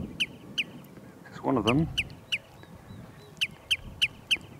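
Wild birds near the Reykjanes lighthouse in Iceland give a run of short, regular chirping calls at moderate distance, and a brief harsh quacking, honking call sounds partway through, with a few spoken words briefly over them.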